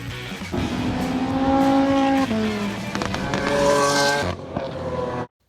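A Ford Mustang Mach 1 engine roars and revs up through the gears, loud and close, with a brief tire squeal before it cuts off abruptly.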